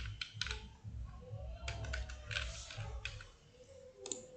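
Fingers type on a computer keyboard, giving quick bursts of crisp key clicks separated by short pauses, close and fairly quiet, with a faint low hum underneath.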